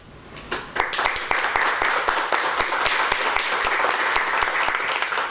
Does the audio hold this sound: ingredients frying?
no